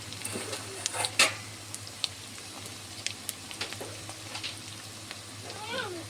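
Turmeric powder goes into hot oil for a prawn malai curry, producing a quiet, sparse sizzle with scattered crackles and small clicks over a low steady hum.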